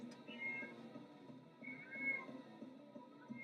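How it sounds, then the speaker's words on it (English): A cat meows repeatedly in short, moderately loud cries over a steady low background hum, with no talking. "My cat is screaming"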